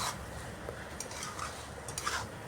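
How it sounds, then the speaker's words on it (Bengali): Quiet stirring of fried okra with spices and sesame in a pan, a few scraping clinks of a spatula against metal over a faint sizzle, no talking. "ভেজে রাখা ভেন্ডি দিয়ে ভেন্ডিটাও মশলার সাথে কিছুক্ষণ নাড়াচাড়া করে নিতে হবে।"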